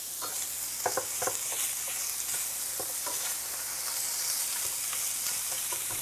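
Diced sausage and onions cook in a pan with a constant bright sizzle, while repeated light scrapes and taps of a utensil break up the pieces nearby. Nobody speaks.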